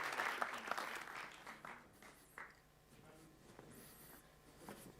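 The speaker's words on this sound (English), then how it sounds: "Let's give a big round of applause." A tech meetup audience gives a round of applause, a short burst of clapping that thins quickly into scattered claps and room murmur.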